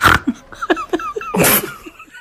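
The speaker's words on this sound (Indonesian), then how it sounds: "Malah bersin." A baby sneezes once sharply and close, followed by soft snuffly breaths and a second burst of breathy noise, all loud and brief with no talk.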